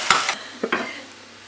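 Mushrooms, leeks and sun-dried tomatoes sautéing in a pan, a brief soft sizzle with a couple of quick stirring scrapes and clinks, close and quiet.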